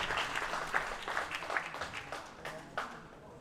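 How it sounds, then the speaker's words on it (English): Audience applause fills a powerlifting championship hall at the World Classic Powerlifting Championships, a steady dense clapping at moderate distance with a few louder claps standing out. "Give them a round of applause, ladies and gentlemen."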